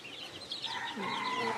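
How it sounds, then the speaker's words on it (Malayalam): Young Golden and Silver Sebright fancy chicks, about a month old, clucking and peeping softly in a short burst of overlapping calls. "ഇതെല്ലാം ഫാൻസി കോഴിയുടെ കുട്ടികളാണ്. Golden സബ്രൈറ്റ്, golden സബ്രൈറ്റ്, silver സബ്രൈറ്റ്"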